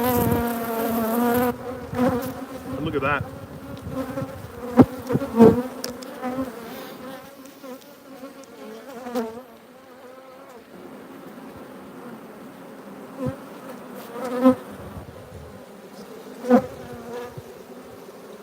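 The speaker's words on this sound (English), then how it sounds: "you're probably having a hard time hearing me because of the amount of bees on this camera" Dense, steady buzzing of many bees around an open beehive close to the microphone, with a voice speaking briefly over the swarm.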